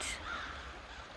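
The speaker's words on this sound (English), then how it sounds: "here come the crows." A single short crow caw, faint and distant, over a soft background hiss.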